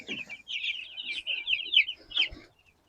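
Week-old baby chicks chirp close by in a chicken tractor, a quick series of high, thin peeping calls with short gaps and a soft thump or two underneath.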